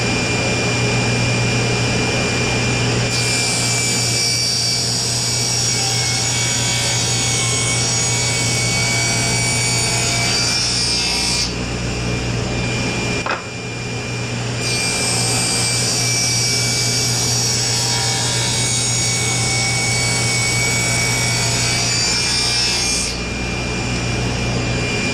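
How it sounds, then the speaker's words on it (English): A table saw rips a 2x4 into 1/8-inch-thick strips, running as a steady loud whine throughout with two long cutting passes of about eight seconds each and a brief break between them. "we're going to run our 2x4 over a table saw,"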